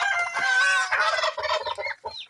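A turkey gobbling close by among chickens and ducks: a rapid warbling gobble followed by a few shorter broken bursts, loud and clear with no talking.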